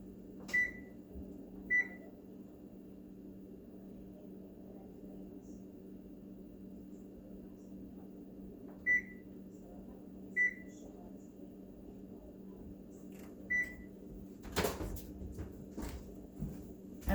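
An oven is switched on and set to 450 in a home kitchen: five short, clear electronic beeps spaced irregularly over a low, steady appliance hum, followed by a brief clatter near the end.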